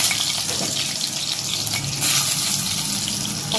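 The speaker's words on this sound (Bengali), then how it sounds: "পটলগুলো দিয়ে দিয়েছি, এবার ঢাকা দিয়ে ভেজে নিতে হবে।" Pointed gourd (potol) pieces fry in hot oil in a pan, giving a steady, close, dense sizzling hiss throughout with no one speaking.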